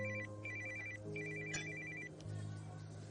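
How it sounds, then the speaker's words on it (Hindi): Mobile phone ringing with an incoming call, a repeating electronic ringtone pattern that sounds in bursts with short gaps, moderately quiet against a faint room background, no speech over it. "अजय मुझे फोन कर रहा है."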